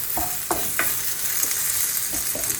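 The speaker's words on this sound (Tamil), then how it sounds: "கருவேப்பிலை வச்சு பச்சை வாசம் அடிக்குது பார்த்தீங்களா வதங்கி வதங்கி கொண்டு இருக்குது" Curry leaves sautéing in hot oil in a pan for prawn curry give a steady, loud sizzle throughout, with occasional knocks of a spoon against the pan and no voices.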